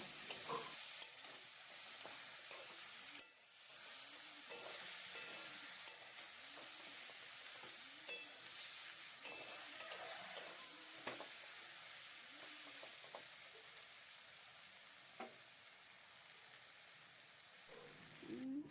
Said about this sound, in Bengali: ওটা কষছে মানে এঁচড় আলু টমেটো মশলা পেস্ট করা সমস্ত কিছু দিয়ে